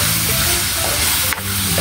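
Chop suey vegetables sizzle loudly in hot oil in a pan while being stirred, a dense close frying hiss with scraping stir sounds and a brief clatter near the end.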